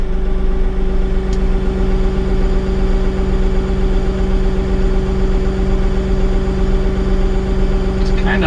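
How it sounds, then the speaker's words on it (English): A Bobcat tractor engine idles steadily throughout, a loud, close, even low drone with constant vibration and no talking. "let's do this again at an idle."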